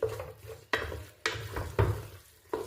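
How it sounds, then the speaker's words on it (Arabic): Chicken and onion filling stirred in a pan, four or five distinct scraping strokes of a utensil against the pan with a soft sizzle underneath, close and clear. "بهذه الطريقه غنخلط الدجاج مع الدغميره بهذه الطريقه هذه."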